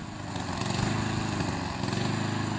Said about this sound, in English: We got the lawnmower running down there.